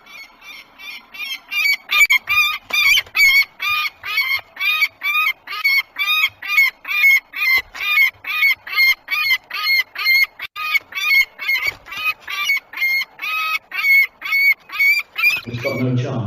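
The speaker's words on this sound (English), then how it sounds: "the adult female now is going to come and attack that eagle owl" An adult female peregrine falcon attacking an eagle owl at its nest, giving a long run of rapid, regular, harsh repeated cries, loud and close, that end abruptly.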